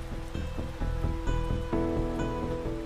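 Steady rain patters on a surface with a soft, even hiss, accompanied by faint repeated tonal sounds, at a moderate level and without any voices.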